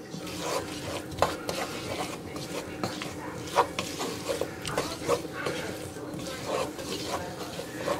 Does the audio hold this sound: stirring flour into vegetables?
yes